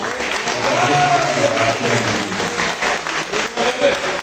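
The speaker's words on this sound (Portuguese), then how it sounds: "Uma salva de palmas para Jesus." A church congregation applauds during a sermon, a full, close burst of clapping with a faint murmur of voices and a held tone underneath.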